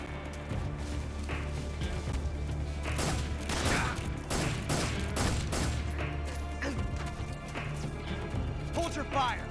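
Gunfire in Metal Gear Solid 3, a rapid scatter of sharp shots and cracks in the middle of the stretch over steady game ambience, with voices talking at times.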